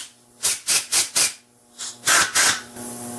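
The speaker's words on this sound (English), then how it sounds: "give this some compressed air." Compressed air blasts through a Kawasaki H1 carburetor in short hissing bursts, four quick puffs then three longer ones, loud and close with no talking.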